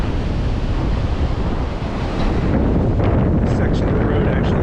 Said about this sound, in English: You probably can't hear me because it's really windy.